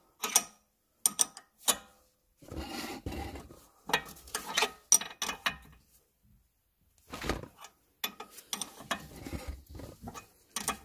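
Ratchet wrench clicking in short bursts while loosening a 13 mm nut on an Audi A8 steering tie rod, close and dry, with pauses and scraping handling noises between strokes.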